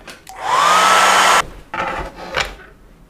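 A hair dryer blows over freshly painted watercolor for just over a second, a loud steady whooshing roar, followed by softer handling clatters and a brief second burst of air.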